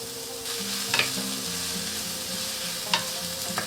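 Onion sizzling steadily in olive oil in a pan over medium-high heat, a close continuous crackle with a few stirring scrapes and clinks, no voices.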